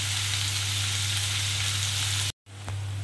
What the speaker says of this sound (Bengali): মিনিট 3-4 ধরে আমি বাড়িয়ে কমিয়ে পেঁয়াজটাকে এভাবে ভেজে নিলাম।